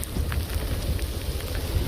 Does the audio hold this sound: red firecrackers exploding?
no